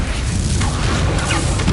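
Incendio fire spell cast in Hogwarts Legacy, a loud whooshing burst of flame with a booming edge, filling the short moment alone.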